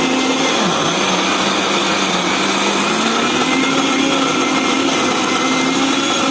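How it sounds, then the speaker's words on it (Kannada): A kitchen mixer grinder runs steadily throughout, a loud, continuous motor whine over dense broadband whirring, with no pauses and no talking. "ಮಿಕ್ಸಿಯಲ್ಲಿ ಹಾಕಬೇಕು."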